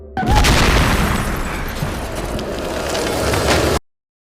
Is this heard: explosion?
yes